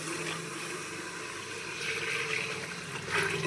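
Coconut milk poured into a cooking pot makes a steady, close liquid pouring and bubbling wash that swells slightly toward the end, with no talking.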